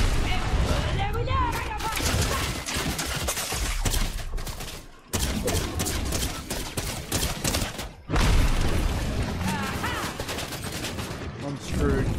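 Gunfire in Fortnite crackles almost nonstop in dense, loud bursts with brief pauses, mixed with impacts and talking throughout.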